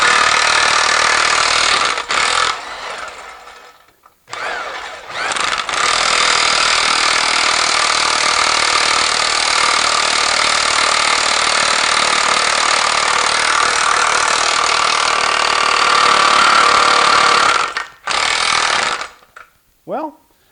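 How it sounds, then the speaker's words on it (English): A DeWalt electric impact wrench hammers on a fastener in long continuous bursts, loud and close, with brief pauses between runs. "let's go for the DeWalt electric impact and see what we can do here"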